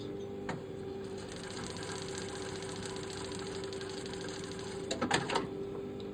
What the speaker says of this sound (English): So that it's actually going to quilt nice and evenly, and it's not going to drag.